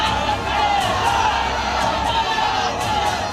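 A crowd of radicals loudly chants the slogan "sar tan se juda" in a steady rhythmic cadence, with many massed voices and sharp periodic shouted bursts over constant crowd noise.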